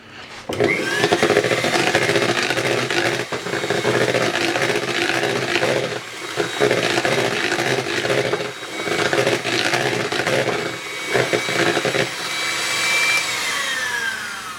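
Vanilla sponge cake batter mixed with an electric mixer, a continuous close whirring motor drone with brief dips and restarts as the beaters work through the bowl.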